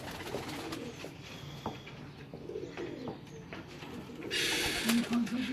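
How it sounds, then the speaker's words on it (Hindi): Pigeons coo on a rooftop in Multan, a steady low cooing with faint chirps over a constant outdoor background, and a louder broadband rush near the end. "खजां वाले कबूतर है ये।"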